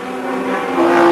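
Touring cars racing in the 1986 Australian Touring Car Championship, including a Nissan Skyline, with engines roaring loud and close as one rises in pitch toward the end of a brief burst.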